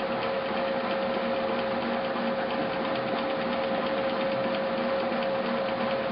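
An Alzmetall AX3SV floor drill press runs steadily in its first, slower gear range, giving a continuous mechanical hum with a faint gear whine, even and unbroken throughout with no talking.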